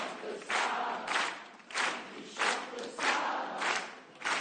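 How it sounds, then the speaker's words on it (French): A studio audience on a French variety show sings along to a song in rhythmic swelling phrases, a loud massed chorus of voices rising and falling in regular pulses with no single voice standing out. "on a le public qui accompagne les artistes jusqu'à leur siège avec leurs chansons"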